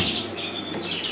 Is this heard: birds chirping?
yes